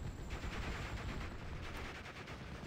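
Machine gun fire strafing infantry in the World War II strategy game Steel Division: Normandy 1944, a dense, continuous rattle of rapid shots that stays fairly quiet and even throughout.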